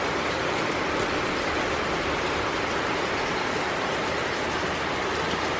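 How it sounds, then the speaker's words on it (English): Heavy rain falls nonstop on Malapascua Island, Cebu, as a dense, even, constant hiss with no breaks or voices. "It's been raining non-stop since 12 midnight"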